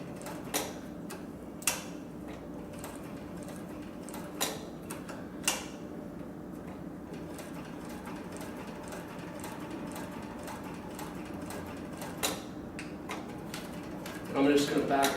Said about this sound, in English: So the machine's very, very quiet when it runs